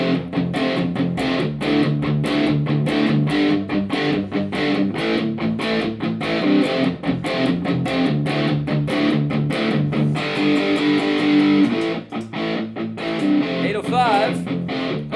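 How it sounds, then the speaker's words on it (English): An electric guitar played through an MXR distortion pedal, a continuous crunchy strummed rhythm with rapid chord attacks, close and loud, ending in a brief squealing bend, with no talking over it. "we're gonna leave the MXR on with some distortion"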